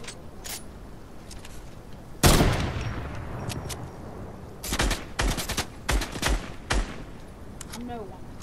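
Gunshots in the video game Fortnite: one loud, sharp blast followed by a quick string of punchy shots, with brief talk in between.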